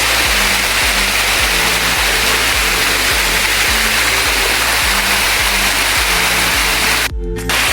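Steady, loud rushing roar of a waterfall at the back of a two-hectare rural property in Lopez, Quezon, continuous throughout with a faint low rhythmic pulse beneath, and no talking.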